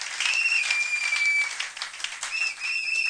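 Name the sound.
congregation applauding in church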